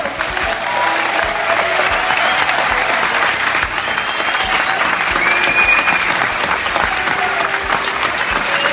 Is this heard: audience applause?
yes